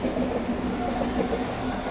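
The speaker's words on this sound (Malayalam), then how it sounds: "നമുക്ക് ട്രെയിൻ കാണാം" A train passing nearby, a steady rumbling roar of rolling wagons with faint clickety-clack, heard alone.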